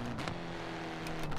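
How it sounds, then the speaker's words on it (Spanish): Tuned 1968 Abarth 595 Essence in Forza Horizon 4 burbling and popping through its exhaust, a steady nasal engine drone with a few crackles near the start and end. "Es que es petardea. Hagas lo que hagas, petardea."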